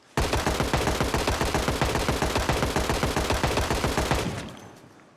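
Rapid, evenly spaced automatic gunfire in Project Zomboid, a long burst of about twenty loud close shots in steady rhythm that cuts off and trails into a short fading echo.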